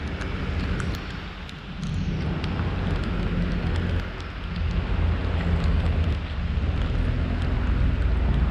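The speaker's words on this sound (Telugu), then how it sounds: "ఫుల్ వర్షం అసలు కంటిన్యూస్గా" Heavy continuous rain falls while cycling from Mumbai to Lonavala, a dense steady roar of rain with wind buffeting the microphone and low rumbles beneath, with no talking.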